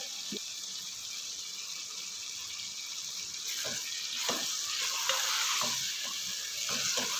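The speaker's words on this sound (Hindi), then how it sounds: "दाल को यहाँ पे अच्छे से भून लेना है" Masoor dal being fried in a pan, a hissing sizzle that grows louder and busier midway, with intermittent scrapes and knocks of stirring, close by with no talk.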